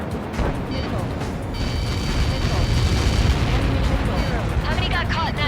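A massive blast in the combat flight game Ace Combat 7 booms and rumbles continuously under radio chatter and tonal game sounds, loud and sustained throughout.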